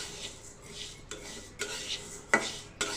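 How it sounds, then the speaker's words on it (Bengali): Chicken skin and mung dal are stirred in a pan over low heat, with a utensil scraping and clinking against the metal in irregular strokes at moderate, close volume, a couple of sharper knocks standing out. "কিছু সময় আমি এভাবে নেড়ে নিব।"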